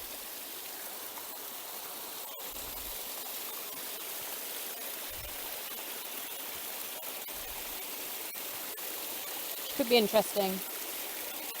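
Water of a forest stream flowing steadily as a close, broadband wash throughout, with a few soft knocks and a brief spoken remark near the end.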